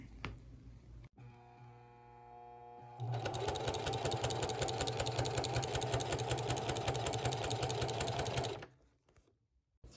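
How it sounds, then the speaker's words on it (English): A sewing machine stitches a seam on a fabric shifter gaiter, starting with a few slow clicks before running fast in a steady, close, loud whirring rattle for about five seconds, then stopping. "And I'm going to sew that seam here."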